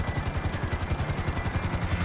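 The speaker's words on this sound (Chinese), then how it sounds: "你开直升机超恐怖的啦！" A helicopter in GTA Online gives off a rapid, steady rotor thump with a whining turbine hum above it, close and continuous, with no speech.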